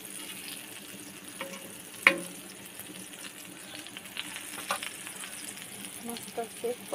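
Pieces of kanti fish fry in a pan with a steady, close sizzle and crackle, broken by a sharp clatter near two seconds and scattered small clicks and scrapes as the pieces are turned.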